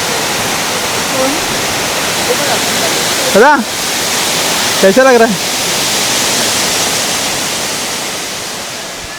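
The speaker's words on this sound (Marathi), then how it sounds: "मस्त धबधबा आहे नावनकोंड." Navankond waterfall roars as a loud, steady rush of falling water. A couple of short voices cut in over the constant noise.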